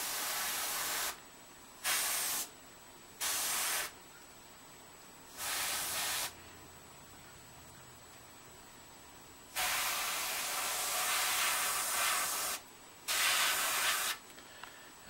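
An airbrush sprays paint in short hissing bursts separated by pauses, with a couple of longer sustained passes. The sound is close and fairly quiet, with no talk.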